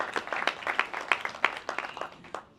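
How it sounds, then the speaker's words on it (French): Brief, scattered clapping from a seminar audience, fairly close and thin, lasting a couple of seconds before fading out. "Mais on peut applaudir Léo"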